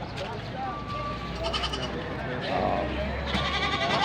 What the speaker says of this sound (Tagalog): Makikita ho niyan, daming kambing ngayon.